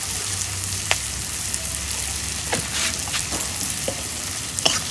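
Spices sizzling in hot oil in a pan, a steady crackling fry with occasional sharp pops and stirring scrapes, fairly close and unaccompanied by talk.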